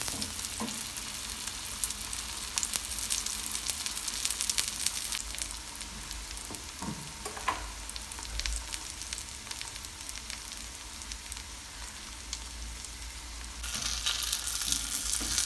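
Steady, loud oil sizzling from an onion flatbread frying in a pan, continuous throughout, with a few faint clinks in the middle.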